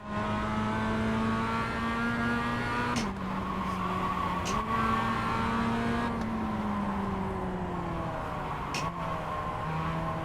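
Race car engines drone continuously at close range during a race, the steady tonal whine dipping and climbing with gear shifts and throttle changes.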